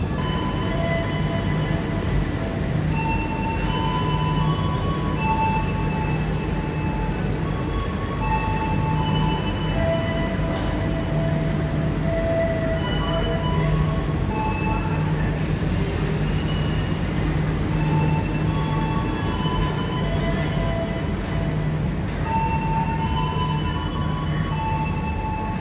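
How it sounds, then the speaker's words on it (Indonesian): Argo Wilis passenger train pulling into Jogja station, a steady rumble of rolling carriages with faint wheel squeal and tonal hum running continuously at moderate level, no voices. "pas banget keretanya sampai di Jogja"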